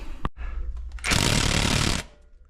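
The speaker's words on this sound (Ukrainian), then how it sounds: "І ось я зараз я зніму при допомогі гайкойорта." A pneumatic impact wrench rattles loose 13 mm bolts during a cylinder head repair on a ZAZ 1102 Tavria engine, one loud sustained burst of about a second following a brief short blip.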